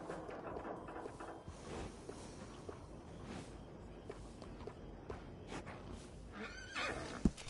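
A horse in the Western video game Red Dead Redemption 2 whinnies and snorts amid clip-clopping hooves and shuffling, fairly close and continuous, with a sharp knock near the end.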